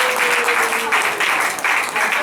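A small audience claps at a magic show, loud and close, in short bursts of rapid clapping with brief dips between them, while a tone sustains faintly underneath.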